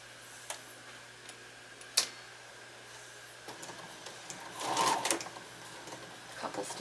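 A sewing machine stitches a zigzag seam on pajama bottoms in short, faint bursts, with soft intermittent ticking and a louder clatter near the end.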